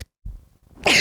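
One sharp sneeze close by, preceded by a short breathy intake.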